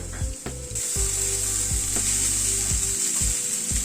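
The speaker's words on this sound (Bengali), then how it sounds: "সাবুদানাটাকে দিয়ে একটু নাড়াচাড়া করে নিলাম" Sago and crushed roasted peanuts stirred in a hot frying pan: a loud continuous sizzle with repeated rhythmic scraping strokes of a spatula against the pan, close up and without speech.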